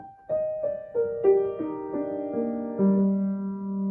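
Piano notes descend one after another, each struck clearly and left ringing under the pedal, ending on a low sustained note; no voices.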